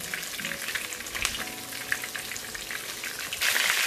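Two large pieces of fish fry in hot grease, a dense, crackling sizzle full of rapid pops, close and continuous, swelling louder near the end, with no speech.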